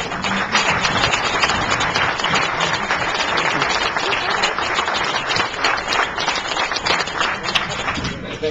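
Sustained applause from an audience, a dense wash of many hands clapping at an even level the whole time.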